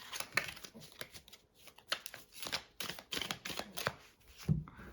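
Close, quiet riffling and soft snaps of cards being shuffled in several quick bursts with brief pauses between them.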